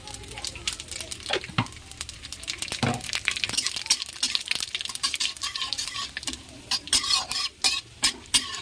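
Cumin, bay leaf and dry red chilli stirred in hot oil, a faint crackle beneath busy, close spoon scraping and clicking against the pan that grows more rhythmic toward the end.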